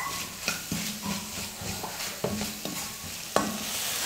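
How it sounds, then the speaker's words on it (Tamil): Turmeric and chilli powder are sautéed in a pan for kothu parotta, with a steady sizzle under repeated scraping and tapping strokes of a spatula. "இது மூணையும் சேர்த்து நல்லா ஒரு நிமிஷத்துக்கு வதக்கிக்கலாம்."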